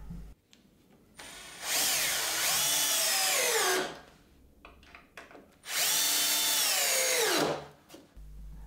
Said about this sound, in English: I can get the other screws driven into place